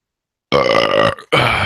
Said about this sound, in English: I just burped in your face